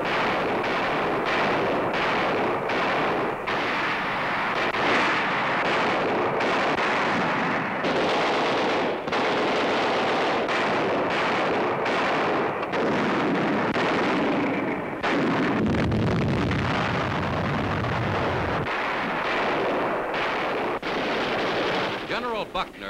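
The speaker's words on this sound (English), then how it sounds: "the heaviest artillery battles of the Pacific War are raging." Heavy artillery fire from 1945 Pacific War battles on a newsreel soundtrack forms a dense, continuous roar of booming blasts and rumbling detonations, loud and unbroken for the whole stretch.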